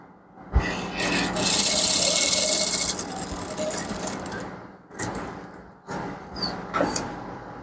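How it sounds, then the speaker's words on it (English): A sewing machine stitches a man's trouser with back elastic and front rope in one loud, steady whirring run, then gives way to shorter bumps and clicks. "You stitch all through this way."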